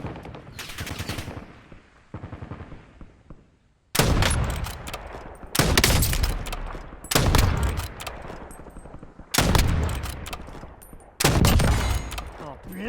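Bursts of automatic gunfire in the video game Warzone, five loud volleys of rapid shots separated by brief pauses, close and dominant throughout.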